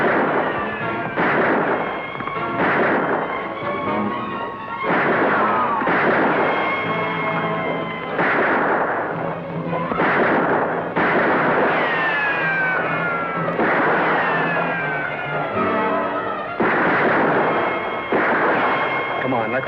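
Gunfire exchange in a western film, repeated loud shots cracking out in a steady run, layered under music and dramatic sound effects.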